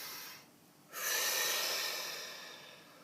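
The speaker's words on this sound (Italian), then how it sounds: "facciamo un bel respiro profondo" A deep breath drawn in a quiet room, with a soft start, a brief pause, then a loud, long airy breath that slowly fades, close to the mic and with no talk over it.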